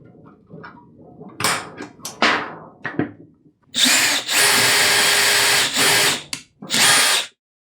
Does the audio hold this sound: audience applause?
no